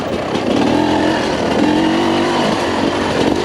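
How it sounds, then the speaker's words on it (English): A 2022 TM EN300Fi motorcycle engine lugs along in second gear at low revs, a steady close drone with a slowly wavering pitch that continues unbroken, with no voices. "Lug around in second gear here."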